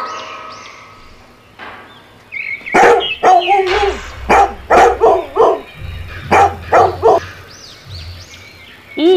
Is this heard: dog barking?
yes